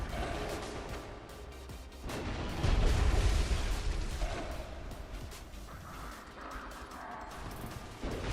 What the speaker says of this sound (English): is that dude trying to run a cannon?